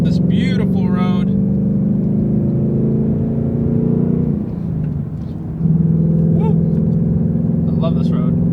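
A car climbs a winding mountain road, its engine droning in a steady low hum with a brief dip in revs midway before pulling again, while people inside talk and exclaim over it.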